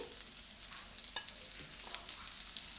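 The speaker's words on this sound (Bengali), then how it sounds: "আবারও একটু ভালো করে ভেজে নেব পেঁয়াজটা দিয়ে দুই এক মিনিট নাড়াচাড়া করে" Chopped onion and green chili frying in oil while a spoon stirs them in a pan, giving a steady soft sizzle with a few light scrapes and taps, fairly quiet and with no talking.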